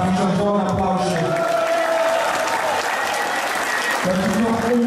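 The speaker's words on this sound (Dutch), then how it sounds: "Dus daar moet je zo'n applaus in." Continuous applause from an audience at a competition event, dense and loud, with clapping overlapping tonal music or voices throughout.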